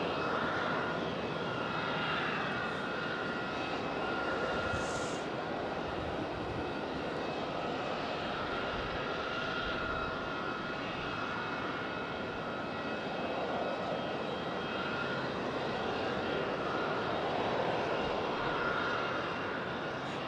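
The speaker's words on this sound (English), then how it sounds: "Forgot we still have that A220 here" JetBlue Airbus A220 jet airliner at Raleigh-Durham airport, a steady loud roar of jet engines sustained throughout, broad and continuous with a faint high whine on top, no talk.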